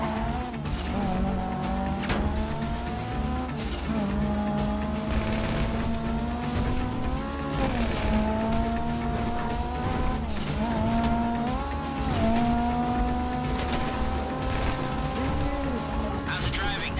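A car driving in the video game GTA V Online, with a steady engine drone whose pitch rises and dips through gear changes and occasional tire squeals, continuous and prominent.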